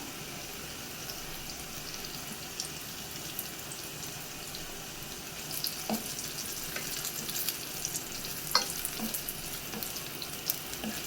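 Garlic and dried red chillies frying in a pan, a faint steady sizzle with scattered small pops and crackles that grow slightly busier toward the end, close by with no voices.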